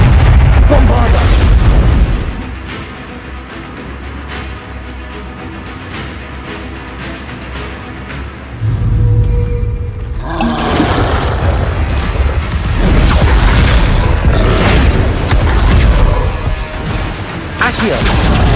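Explosions from Hogwarts Legacy, with Bombarda blasting spells booming loudly through the fight alongside other heavy crashes and roars, while a voice talks over the chaos.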